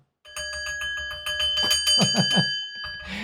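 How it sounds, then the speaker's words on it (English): A small bell is rung repeatedly, bright ringing strikes in quick succession that build to a flurry of rapid dings before ringing out, clear and near with no talk. "Let's ring that bell for you, huh?"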